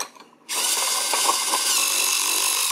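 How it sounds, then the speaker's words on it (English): Bosch toy electric screwdriver from a kids' mini tool set, a steady high whirring buzz that starts abruptly after a short quiet moment and runs continuously to the end, close and fairly loud. "Get the electric screwdriver, Sebby."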